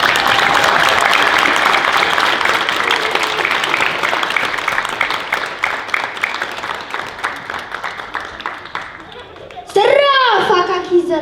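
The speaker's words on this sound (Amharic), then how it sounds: "አጨብጭቡላቸው በእልልታ" Crowd applause from an audience at a US celebration of the 130th anniversary of the Battle of Adwa, with dense steady clapping and high trilling ululation, then a sharp burst of louder cheering near the end.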